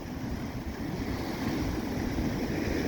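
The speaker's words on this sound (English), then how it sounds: "the water's rushing up through this gully and it's more or less right on where I'm sat" Sea water rushing up through a rocky shoreline gully at high tide, a constant broad roar of surging surf, close and fairly loud with wind-like hiss and no clear breaks.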